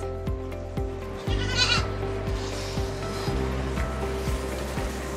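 Goats bleating in the birthing stalls of a farm barn, several repeated calls spread through the clip over a steady low background hum, moderately close.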